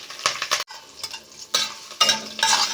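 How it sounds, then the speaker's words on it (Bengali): Curry leaves and chopped ginger fry in oil for upma, loud crackling sizzle coming in bursts with stirring scrapes and brief quieter gaps between them; no speech. "কারি পাতা আদা কুচি আগে ভালো করে একটু ভেজে নেব"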